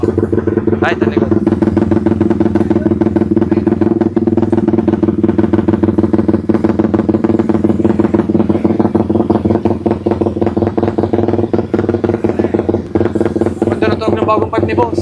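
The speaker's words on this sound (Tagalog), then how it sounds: "Ng bagong pipe ni boss. Ngayon ko lang narinig tumunog yan." Motorcycle engine fitted with a new exhaust pipe runs steadily near the microphone for the whole stretch, a loud even drone with some clatter, while voices talk over it.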